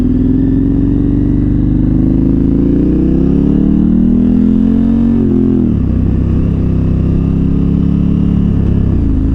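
KTM 1290 Super Adventure R motorcycle with a big V engine pulling a third-gear roll-on from about 2000 RPM, a loud close engine note climbing steadily in pitch, then a sharp dip before settling into a rough, rumbling drone.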